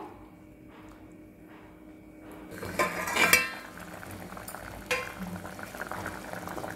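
Seedless dried apricots simmer in a pot over a medium flame before it is covered. A quiet start gives way to pot-and-lid clinks, then a steady close bubbling boil, with no talking.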